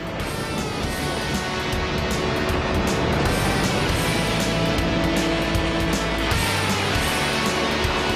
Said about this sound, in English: 80 kilometers per hour through standing water, no problem in this car.